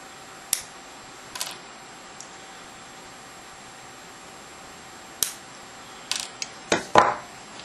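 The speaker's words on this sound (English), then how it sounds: "So I'm just going to break away the required sets of pins that I'll need." Sets of pins are snapped off a strip of pin headers for an LCD breadboard project, giving a few sharp, isolated clicks followed by a quicker cluster of snaps near the end, close and alone against a quiet background.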